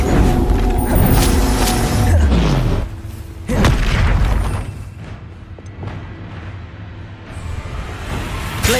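A Confringo fire spell goes off in Hogwarts Legacy with heavy booming explosions and sharp magical bursts. A louder salvo comes first, then smaller impacts and rumbling aftershocks fade over several seconds, all without any voices.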